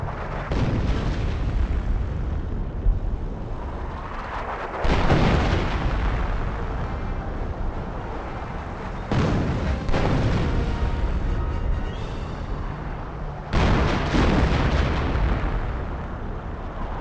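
Heavy artillery barrage in the Company of Heroes video game during the Liberation of Caen fighting, with repeated deep booming blasts landing every few seconds and rumbling echoes filling the gaps between them.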